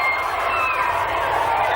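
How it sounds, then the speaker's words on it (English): A large crowd of fans outside in Perth, Australia, waiting for Michael Jackson to arrive, makes a steady, dense roar of murmuring and distant cheering that holds evenly throughout. "the crowd is waiting for the man himself."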